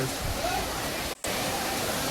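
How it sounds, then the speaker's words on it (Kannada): Lots of water rushes in a steady, loud, broadband roar at a temple area where plates are washed, with one brief dropout midway. "ನೋಡಿ ಎಷ್ಟೊಂದು ನೀರು ಹೋಗ್ತಾ ಇದೆ"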